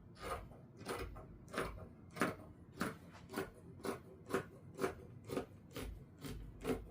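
Scissors snipping through floral fabric while a circle skirt is rounded off, a steady run of about a dozen close, crisp cuts at an even rhythm with no talking.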